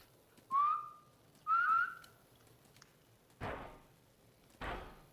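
In a video game, two short rising whistle blasts, clear and close, followed by two heavy thuds like a door slamming.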